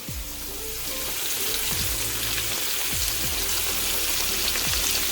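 Flour-dredged pork chops pan frying in a frying pan give a steady, close, loud sizzle with crackling spatter throughout, with a few low thumps and no talking.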